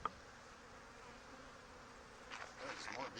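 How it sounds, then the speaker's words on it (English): Honey bees hum faintly and steadily in an opened hive during an early-season inspection, a soft, low continuous buzz that swells slightly toward the end. "There's more bees in here than what I suspected."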